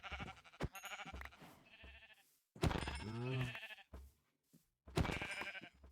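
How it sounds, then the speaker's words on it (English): Sheep in the game Minecraft bleat several times in close succession, each cry wavering and nasal, fairly near and clear with short gaps of quiet between calls. "Let's actually go up here and kill these sheep first."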